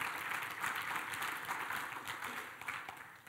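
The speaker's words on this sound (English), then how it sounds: "See, you guys are clapping" A church congregation claps together in a steady, fairly quiet patter of many hands that keeps an even level throughout.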